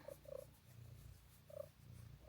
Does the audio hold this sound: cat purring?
yes